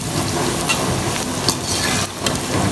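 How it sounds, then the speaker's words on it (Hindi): Large-cut okra frying in a pan on high heat, a loud, dense crackling sizzle that continues throughout with faint stirring scrapes and no talk. "इसको बिल्कुल मैं तेज़ आंच पे फ्राई कर रही हूँ।"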